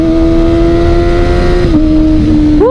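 A modified Kawasaki Ninja ZX25R with a quick shifter screams at high revs, a loud, steady, close engine wail that dips briefly as it shifts and then climbs again.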